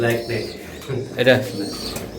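Soft Budapest pigeon coos rise and fall close by, a few throaty calls under a voice speaking.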